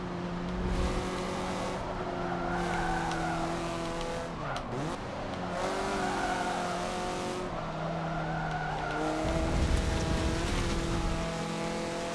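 Mazda MX-5 Cup race car in Forza Motorsport 7 racing, engine whining through shifting gears with a sharp downshift and tire squeal around corners, loud and continuous without talk.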